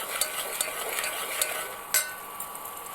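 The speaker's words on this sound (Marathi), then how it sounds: "थोडं मसाला परतला का" Masala spices sauté in a hot pan with a steady, close sizzle, while a spoon stirs and scrapes against the pan in a few sharp, irregular clicks.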